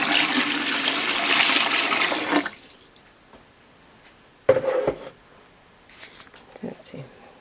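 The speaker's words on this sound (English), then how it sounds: "I'm going to add about 1 inch of water." Water is poured into a pot on a hot plate during beeswax cleaning: a loud splashing pour that stops abruptly, followed by a few sharp clanks and small handling noises.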